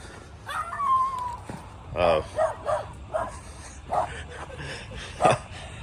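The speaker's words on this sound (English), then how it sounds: "I've never been attacked by a little miniature Doberman." A miniature Doberman barks in a string of sharp, close yips with whimpering tones between them. The barks come in short repeated bursts over a low background hum.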